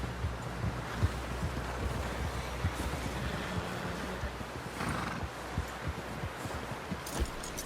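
A horse in a Red Dead Redemption 2 game scene, hooves clopping unevenly over a steady windy outdoor rumble, with a brief whinny, moderately loud and without talking.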